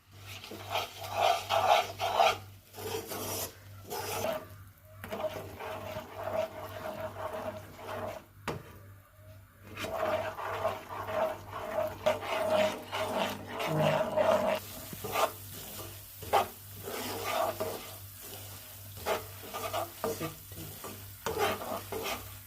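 Peanuts being stirred with ghee in a pan for peanut candy, a close, rhythmic scraping and rubbing of a spoon through the nuts with light sizzling and brief pauses.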